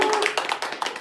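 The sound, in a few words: applause to open a class-sharing session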